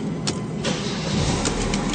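Mercedes-Benz C180 Kompressor Avantgarde W203 engine being started, a steady close mechanical rumble with short clicks and whirs as the starter catches and the engine settles, no voices.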